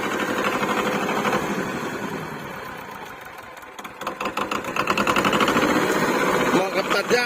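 A Yanmar YM1700 two-cylinder tractor engine runs steadily with a chugging, knocking rhythm that grows louder and rougher partway through.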